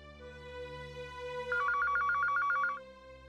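A telephone rings while a call is placed, a quick trilling ring repeated in a rapid burst over a steady sustained musical tone, near and clear with no talking.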